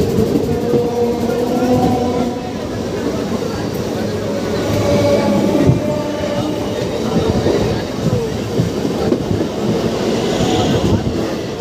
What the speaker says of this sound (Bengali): আর সামনের দিক থেকে আসছে 34531 ক্যানিং টু শিয়ালদা লোকাল।